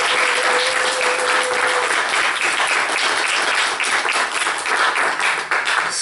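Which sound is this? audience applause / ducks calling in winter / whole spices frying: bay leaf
audience applause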